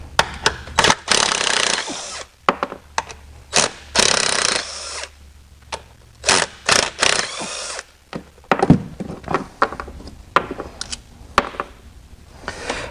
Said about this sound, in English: Now we're going to open these three screws.